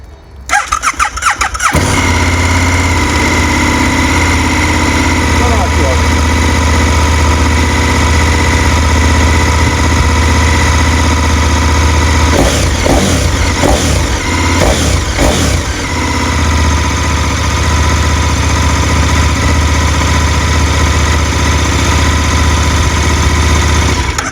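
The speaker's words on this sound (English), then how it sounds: "what I do now, I just clear exhaust" A motorbike engine revs repeatedly to clear its exhaust, loud and close, with a rough idle between sharp bursts of throttle and a brief squealing flutter midway.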